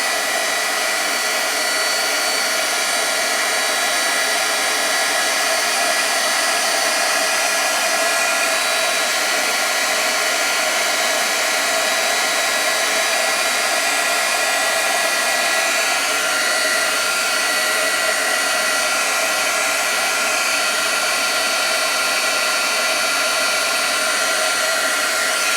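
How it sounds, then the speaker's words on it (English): A heat embossing tool blows hot air over the edges of a handmade card, making a constant loud whooshing fan whine with a steady hiss, unbroken for the whole stretch with no talk. "I'm going to heat emboss the edges of my"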